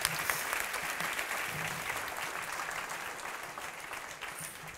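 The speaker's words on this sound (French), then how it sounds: "Vous pouvez l'applaudir." An audience gives steady, even applause to a woman named Nathalie, heard a little distant and evenly sustained for several seconds.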